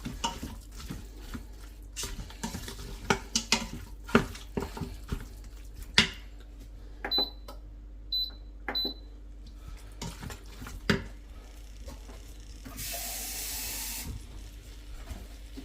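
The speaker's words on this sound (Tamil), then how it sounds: "தண்ணி ஊற்றிக்கோங்க." Clinks of utensils against an Instant Pot while cooking mutton curry, then a short steady rush of water poured into the pot near the end, close by.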